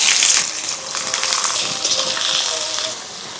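Chopped onion frying in hot oil in a wok makes a bright, close sizzling hiss that softens slightly toward the end.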